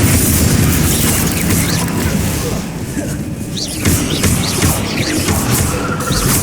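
Repeated Confringo spell explosions in Hogwarts Legacy: loud, continuous booms and crashing bursts layered over one another, with a voice calling out throughout.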